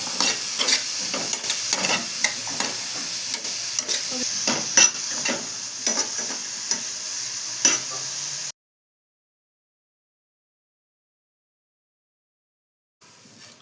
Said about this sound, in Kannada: ಸಣ್ಣ ಉರಿಯಲ್ಲಿ ಚೆನ್ನಾಗಿ ಫ್ರೈ ಮಾಡ್ಕೋಬೇಕು.